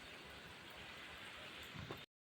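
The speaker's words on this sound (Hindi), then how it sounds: "थोड़ी थोड़ी बारीक बारीक बूंदें हो रही है, कंटिन्यू वाली बारिश हो रही है यहाँ।" Light rain falls steadily as a soft, even hiss of fine drops, faint and unbroken until it cuts off abruptly at the end.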